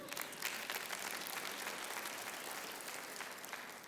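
A church audience breaks into steady, dense applause, many hands clapping evenly throughout at moderate volume with no pauses.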